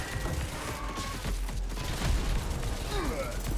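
Turret gunfire crackles in the Doom-like shooter Scathe, rapid mechanical bursts running continuously over dense game noise, with someone talking.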